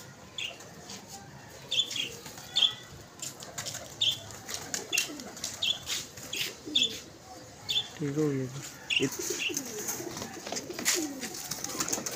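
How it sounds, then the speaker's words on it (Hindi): Pigeons, a painted Teddy breed bird among them, coo softly and flap their wings in bursts with chirps scattered throughout, while someone talks nearby. "टैडी कबूतर है जी।"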